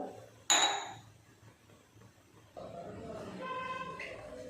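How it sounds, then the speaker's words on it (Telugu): A pressure cooker lid set down and closed over mutton curry, a single sharp metallic clink followed by lower clattering and rustling. "నేను మూత పెట్టేస్తున్నాను."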